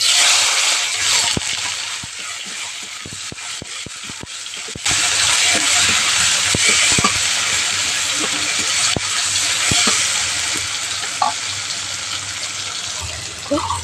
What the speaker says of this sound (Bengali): ফোড়নটা ভালো করে ভেজে নিয়েছি।